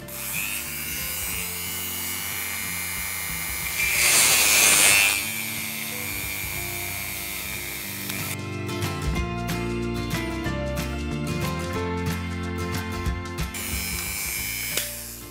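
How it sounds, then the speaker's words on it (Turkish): Low-speed electric drill boring into a diecast Hot Wheels Ferrari Testarossa, a steady close motor whine throughout, with a louder grinding surge early on and a buzzing, rattling texture in the later half. "Ve oldukça düşük bir hızda başlıyorum bu işe. Çünkü yüksek hızda çok hızlı delinebiliyor."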